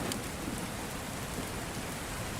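Steady, dense rain falling in a continuous hiss, even and unbroken with no voices.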